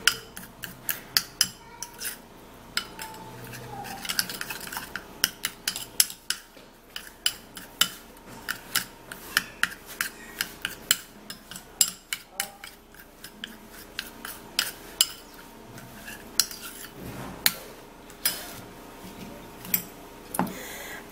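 A tablespoon of baking soda is stirred in a bowl, the spoon giving a steady run of close, sharp clicks and scrapes against the sides, with no talking.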